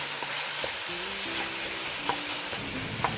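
Chicken pieces sizzle and fry steadily in a pan, with occasional scrapes and clicks of stirring over a constant hiss.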